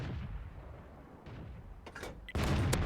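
A tank gun firing in the World of Tanks video game on a T28 F30, with a sharp crack near the two-second mark, then a loud, sustained boom at the end over rumbling engine noise.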